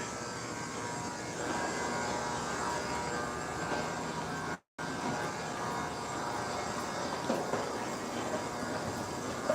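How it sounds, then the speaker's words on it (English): A New York City subway train gives a steady, droning rumble with a high, continuous hum, a sustained mechanical noise that holds evenly throughout apart from one very brief dropout. "So, this is the train."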